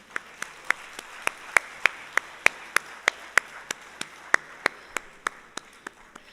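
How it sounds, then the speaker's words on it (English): Applause honouring the orchestra at a Bharatanatyam arangetram, heard as crisp, evenly spaced claps in a steady rhythm, about three per second, fairly close and distinct. "Can we please have a big round of applause honoring them?"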